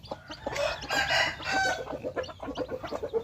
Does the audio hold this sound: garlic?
no